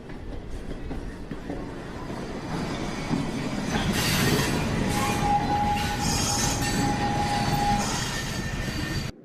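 A train rumbles steadily along the rails, with a thin high wheel squeal rising midway and continuing over the clatter.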